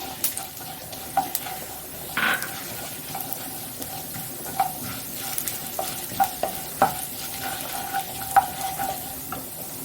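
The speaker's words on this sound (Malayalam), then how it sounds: "അപ്പോൾ വെളിച്ചെണ്ണ മൂത്തിട്ടുണ്ട് നമ്മൾ ഇതിലേക്ക് ഉഴുന്ന് കൊടുക്കുകയാണ് ഉഴുന്ന് നന്നായിട്ടൊന്ന് മൂത്ത് കിട്ടുമ്പോൾ ബാക്കിയെല്ലാം വഴറ്റിയെടുക്കാം നമുക്ക്" Urad dal frying in hot coconut oil while being stirred, giving a continuous sizzle with repeated scraping and clinking of a spoon against the pan throughout, and no speech.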